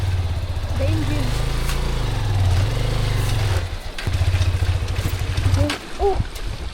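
A boat engine runs steadily and loud up close during a remote mountain river crossing, a low droning rumble with a short dip midway, while people talk and call out over it.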